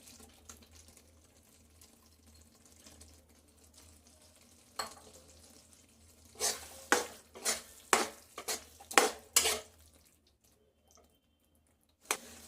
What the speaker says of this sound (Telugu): ఇప్పుడు మనం చిన్నగా కట్ చేసుకున్న పన్నీర్ కూడా వేసేసుకుందాం దీంట్లోకి